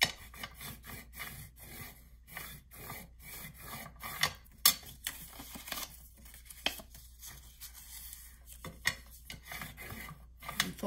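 Scored paper is folded along its score lines, giving close, crisp rubbing and creasing sounds with irregular sharp crinkles and taps, heard alone without talk.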